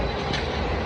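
A metro train runs near a metro station, a steady loud rumble of rolling wheels with a faint rattle, heard briefly and close.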